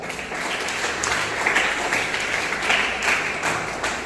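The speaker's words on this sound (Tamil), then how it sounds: "கையை தட்டலையா" Church congregation applauding after a Tamil sermon line, a steady, dense wash of hand clapping lasting about four seconds with no talk over it.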